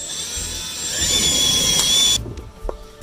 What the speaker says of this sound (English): we pre-drilled or created our pilot holes